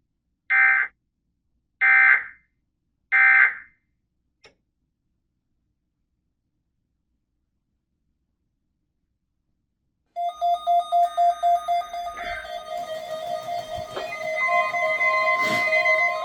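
A NOAA Weather Radio emergency alert for the Florida listening area opens with three short, loud burst tones, then after a silent gap the long, steady warbling alarm tone sounds, loud and continuous.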